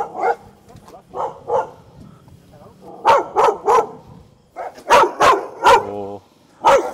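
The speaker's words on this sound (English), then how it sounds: "Oh, that's a nice dog." A fluffy dog barks aggressively on a night street in Bangkok, several loud close barks in bursts with short yips between, while people talk over and around them.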